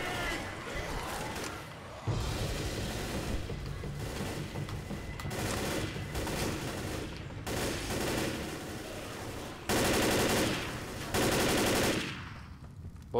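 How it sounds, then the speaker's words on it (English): Assault rifle fire in the Left 4 Dead zombie shooter, with loud sustained automatic bursts stopping and restarting over several seconds amid game noise and faint voices. "Got a big assault rifle."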